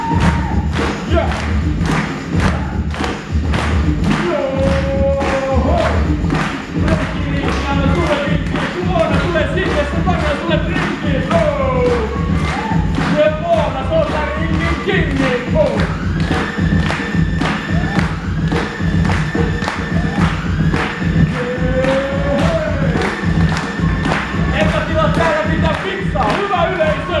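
A large audience at a dance school Christmas show claps and cheers throughout, with rhythmic thumping beats and loud whoops over steady, sustained crowd noise and occasional voices.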